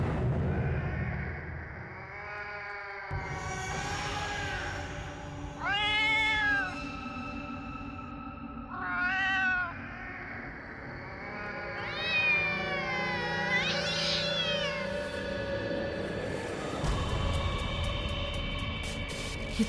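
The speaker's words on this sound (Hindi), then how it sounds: "ये तो वही बिल्ली की आवाज है" A cat meows and yowls repeatedly in drawn-out, wavering cries spaced a few seconds apart, close and clear over a low background murmur.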